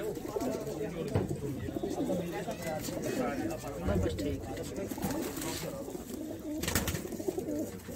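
Pigeons in a loft coo repeatedly nearby in a soft, throaty chorus while someone talks over them.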